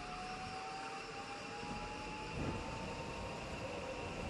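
A train departing on the Yamanote Line in the Densha de Go! driving game: a steady, quiet electric motor hum and rail rumble with a slowly rising whine, and no talking.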